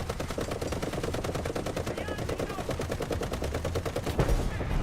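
Rapid, steady bursts from a 7.62 machine gun mounted on an M60 tank in the War Thunder video game, a dense loud rattle of shots running nonstop with a heavier thump near the end.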